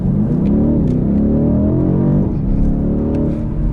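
A 2019 BMW M850i Coupe at full throttle from a standstill, heard from inside the car: a loud, continuous engine roar climbing steadily in pitch, dipping once at a gear change and then rising again, with no talk.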